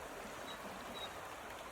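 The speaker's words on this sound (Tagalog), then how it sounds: "Tingog sa tubig ug sa langgam." Flowing stream water at an outdoor spot with a view, a faint, steady wash of broadband noise that continues without a break, with a couple of thin high chirps that may be birds.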